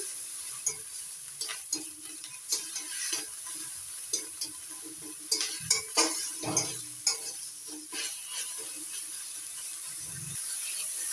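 Ginger-garlic paste frying with onion paste in a pan, a low steady sizzle under a string of scraping, knocking stirring strokes that come in uneven bursts, close and soft.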